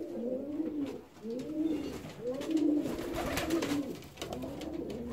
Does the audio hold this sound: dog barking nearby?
no